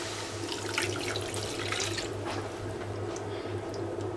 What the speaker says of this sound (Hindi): वन एंड हाफ कप पानी डालेंगे